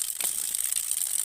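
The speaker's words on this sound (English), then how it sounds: "there's the wind." Wind gusting against the microphone outdoors on a rainy walking trail in Ireland, a constant hissing rumble with faint crackling buffets throughout.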